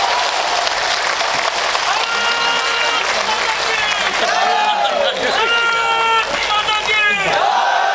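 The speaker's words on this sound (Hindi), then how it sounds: "आगे से पीछे तक जितने भी लोग हैं सब एक बार जोरदार तालियां इसरो के लिए" Dense, loud applause from a large audience at an outdoor Hindi comedy poetry gathering in Ambedkar Nagar, steady for the whole stretch with crowd voices and shouts layered through it.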